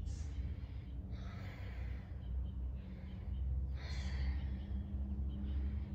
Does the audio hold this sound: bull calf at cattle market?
no